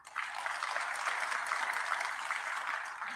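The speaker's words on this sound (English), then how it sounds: "I kindly invite everyone to join me in giving a warm round of applause to these distinguished" Warm audience applause at a charter award ceremony for KAIST and KEMRI universities at State House, Nairobi, a dense sustained roar of many hands clapping that swells briefly and holds steady, fairly close.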